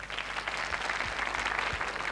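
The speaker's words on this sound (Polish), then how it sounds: "I brawa" Audience applause at a 1997 concert, a steady wash of many hands clapping at moderate distance, sustained evenly throughout without voices.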